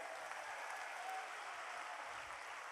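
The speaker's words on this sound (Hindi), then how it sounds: "हाथ ऊपर करके ताली बजाइए।" A large crowd at a Bundelkhand Mahakumbh religious gathering claps with raised hands, producing a dense, even roar of applause that holds steady throughout without a break.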